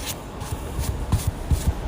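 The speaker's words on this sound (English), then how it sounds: "So that was the noise of someone who's very busy at work, painting away." An artist painting on canvas, a brush rubbing and dabbing in short, irregular soft strokes, close and quiet, with faint scuffing between them and no talking.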